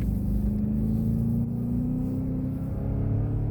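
A supercharged 555-horsepower Cadillac CTS-V Coupe accelerating hard, heard as a loud, steady engine drone from close by whose pitch climbs slowly and continuously.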